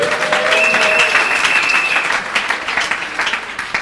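A church congregation at a Christian seminar breaks into loud, sustained applause, dense clapping from many hands filling the room for several seconds.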